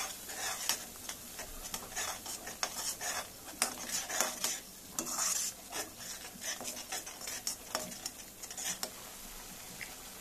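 A spoon scrapes and clinks against a pan while bitter gourd sizzles steadily underneath, with irregular stirring knocks throughout.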